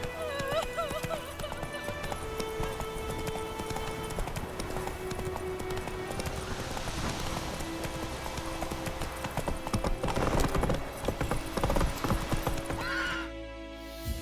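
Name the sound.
horse Roach galloping in The Witcher 3 video game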